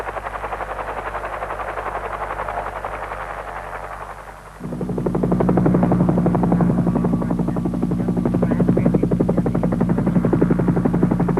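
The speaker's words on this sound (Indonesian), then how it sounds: "Konstruksi kedua terowongan seluruhnya ditunjang helikopter." A helicopter supporting tunnel construction at the Freeport mine chops loudly and close, a rapid pulsing rotor beat that grows stronger after a few seconds and keeps going with no voices.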